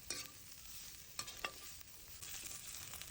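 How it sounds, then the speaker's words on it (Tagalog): Pieces of pork fry and render their fat in a pan with a soft, steady sizzle and a few scraping stirs, faint and without talk. "Hintayin natin magmantika yung baboy guys. Ayan na, malapit na siyang maluto."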